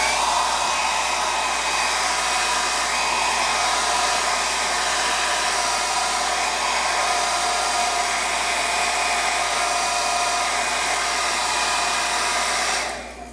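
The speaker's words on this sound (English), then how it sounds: "Get a little hair dryer and then just start preheating the leather." A small hair dryer blows steadily, close and loud, as it preheats leather boots before a wax sealant is applied, its whirring hiss constant until it cuts off at the very end.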